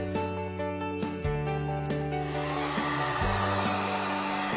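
A heat gun blows a steady, loud whirring hum while warming vinyl wrap pressed into a deep channel, its motor tone shifting pitch slightly a few times with no voices.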